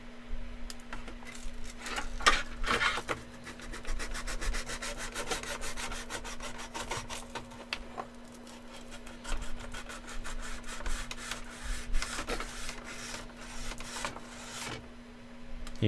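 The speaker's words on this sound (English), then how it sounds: "Told myself I wouldn't be sanding this whole thing." Hand sanding of a wooden piece during a live workshop build, a steady abrasive rubbing that runs continuously with rhythmic strokes, fairly close and moderate in level, with a constant hum beneath and no talking.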